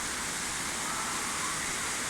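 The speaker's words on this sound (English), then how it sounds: "It's really raining." Heavy rain falls on a London street at night, a dense, steady hiss with no breaks, heard alone and at a moderate distance.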